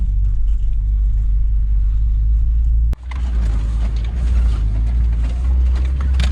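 A first-generation Toyota 4Runner crawling off-road through snow in 4 low, first gear, its engine a loud, steady, close rumble from inside the cabin, with one sharp knock partway through.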